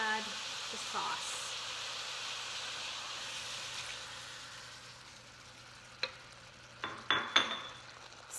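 Onions and sauce sizzling in a pan for Thai basil chicken, a steady soft frying hiss, with a few clinks of utensils against the pan near the end.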